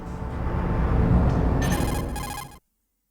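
Codec call ringtone from the video game Metal Gear Solid, a bright electronic ringing that builds over music and game sound for about two and a half seconds before cutting off abruptly.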